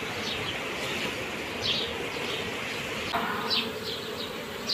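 Honey bees hum steadily at a hive being strengthened with new wax foundation frames, a dense close buzz that continues throughout with a few brief higher chirps over it.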